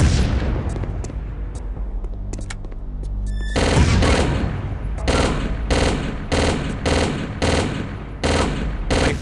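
Gunfire in the video game Chaser: rapid automatic bursts followed by a string of loud, evenly spaced single shots, dense and close, with no talking.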